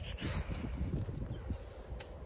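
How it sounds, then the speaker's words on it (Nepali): Strong wind gusts at Bhairav Kund on the Gosaikunda trek, buffeting the microphone in low, rumbling surges over a continuous rushing backdrop, with no talking. "एकदम धेरै हावा चलेछ."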